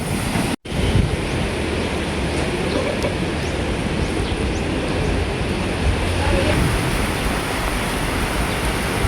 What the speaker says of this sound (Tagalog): sobrang lakas na po ng hangin dito